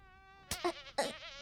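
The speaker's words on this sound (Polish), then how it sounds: "Mamy tu muchę." In a cartoon episode of The Amazing Digital Circus, a fly gives off a thin, steady, high whining buzz that is then cut into by several short, sharp bursts of sound.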